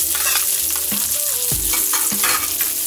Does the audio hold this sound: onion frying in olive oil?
yes